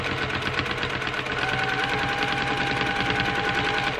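A domestic sewing machine stitches free motion quilting circles, a fast, steady, close mechanical chattering hum with rapid needle clatter running without pause.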